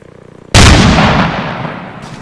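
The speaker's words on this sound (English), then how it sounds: "Firing artillery for comedic effect only." A single loud, close artillery blast erupts from near silence in a military video game, then rolls off in a long, fading rumble.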